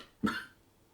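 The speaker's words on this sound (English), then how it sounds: "Was that a cough?" A single short, sharp human cough, fairly close and clear, followed by a quiet room.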